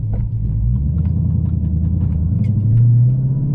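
A Dodge Challenger fitted with polyurethane differential bushings and race axles cruises on the road, its deep engine and drivetrain rumble steady and close throughout, swelling slightly near the end with no talk.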